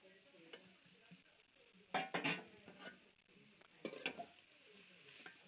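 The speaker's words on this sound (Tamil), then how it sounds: "தேங்காய் துருவல் போட்டு நல்லா வதக்கணும்" Grated coconut and beetroot sautéed in a pan for a beetroot stir-fry, giving a soft, quiet sizzle with a few louder bursts of spatula scraping and clattering, close by with no talk.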